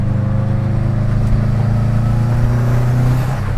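A Subaru Impreza RS engine, built to around 400 horsepower, accelerating with a deep, throaty drone that holds loud and close for a few seconds with no voices over it.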